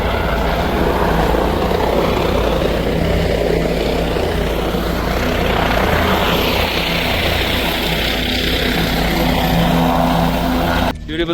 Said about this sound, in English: traveling via helicopter.